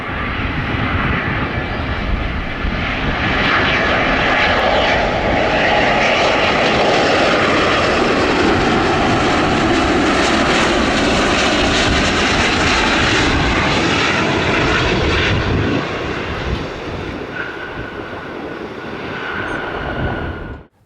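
Two Boeing 777 jet airliners taxiing on an international taxiway at O'Hare airport, a loud sustained roar and whine of jet engines that swells, holds steady, then eases off toward the end, heard alone without talk.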